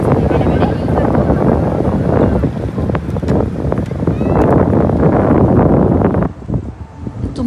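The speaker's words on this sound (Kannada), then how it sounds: "ತುಂಬ ಗಾಳಿ ಇತ್ತು, ನಾನು ಮಾತಾಡೋದು ನಿಮಗೆ ಕೇಳಿಸಲಿಕ್ಕಿಲ್ಲ." Strong coastal wind buffets the microphone on a clifftop above a beach, a loud continuous rumbling roar with gusting swells that eases briefly near the end.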